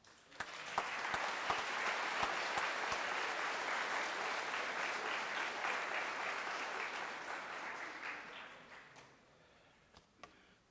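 High school students in a gym-style Veteran's Day assembly giving themselves a hand, a broad, steady wash of crowd applause lasting several seconds, then thinning out to a few scattered claps as it fades.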